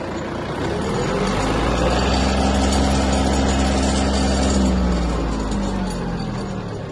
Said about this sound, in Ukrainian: Трактор впевнено набирає швидкість.